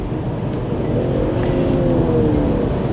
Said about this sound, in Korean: 이렇게 잠깐 가속 페달 툭툭 밟아보면은